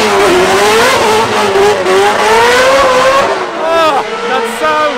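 At a Drift Masters event, a drift car's engine revs loud and close, climbing and falling in sharp bursts with some tire noise. Voices can be heard talking under it.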